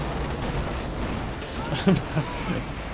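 Rifle grenades and small-arms gunfire crackle faintly in a Company of Heroes 2 battle as infantry snare a Panzer IV. A few muffled thumps and pops rise above a low, constant battle din while a commentator keeps talking over it.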